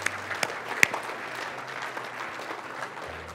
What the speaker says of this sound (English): Now give him a clap offering.